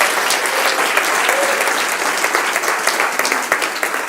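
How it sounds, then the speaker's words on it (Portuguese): Loud, dense applause from a church congregation fills the whole stretch, steady clapping from many hands with no speech over it. "dê um aplauso forte para o Senhor Jesus"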